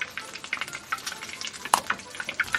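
A Korean cheese hotdog fries in hot oil, giving a close, lively crackle of small popping bubbles and sharp spits over a steady sizzle.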